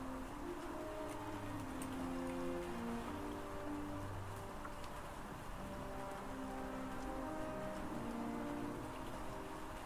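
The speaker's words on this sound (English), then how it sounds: "Oh, maybe it's rain." Rain falls in the video game Hytale, a steady, quiet patter of drops spread evenly across the whole stretch, with soft tonal game music notes drifting underneath.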